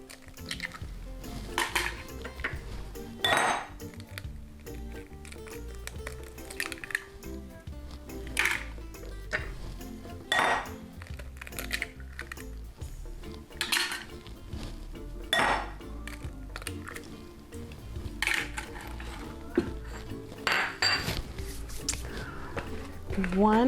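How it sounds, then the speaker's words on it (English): Four eggs for an artichoke quiche are beaten in a bowl, with repeated clinks and taps of utensil against dish under a person talking throughout. "So I want to get the egg portion mixed up now so we can build things really fast."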